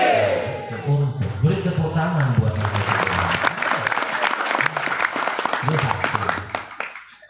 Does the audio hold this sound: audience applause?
yes